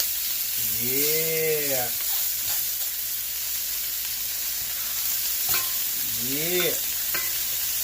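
Freshly flipped steaks frying in a pan, with a steady close sizzle and hiss throughout while a voice speaks briefly over it.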